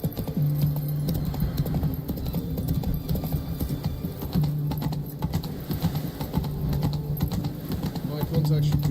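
A horse's hooves clip-clop steadily in The Witcher 3, a close, rhythmic trot that carries on throughout, with game voices and clicking sounds mixed in.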